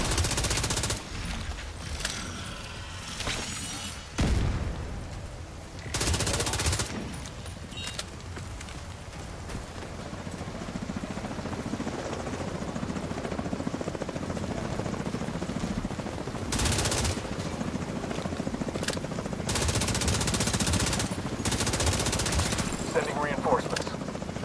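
Video game gunfire during a loot-hunting online shooter session: loud, rapid automatic bursts that start and stop across the stretch over a constant roar of background noise, with talk mixed in at times.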